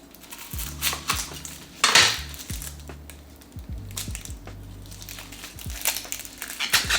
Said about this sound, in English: Now we're gonna cut some onions.